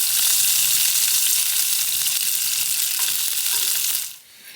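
Bacon lardons frying in a pan over a fire in a tarp hot tent on a rainy night: a loud, dense, steady sizzle and crackle through almost the whole clip, then dropping off sharply near the end.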